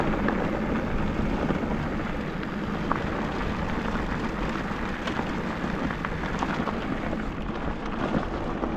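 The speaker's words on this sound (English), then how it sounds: "It's so strange being in a thunderstorm when you're so exposed" Heavy rain pours steadily on open, exposed terrain as a thunderstorm moves in, a dense continuous hiss with faint rumbles underneath.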